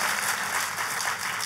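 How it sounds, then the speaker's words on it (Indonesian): A church congregation claps in steady, dense applause for Jesus during a worship service, a continuous moderately loud wash of hand claps with no talking. "Tepuk tangannya bisa lebih meriah lagi buat Yesus Tuhan kita"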